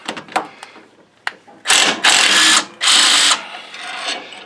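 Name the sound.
impact wrench removing pulley on John Deere riding mower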